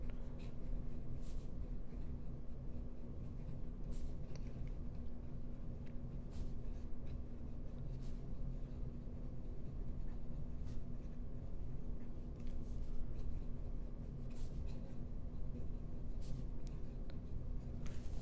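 Lamy Scala fountain pen with a 1.9 mm stub nib and pink ink, writing quickly on paper, a faint steady scratching over a constant background hiss and hum, with no speech.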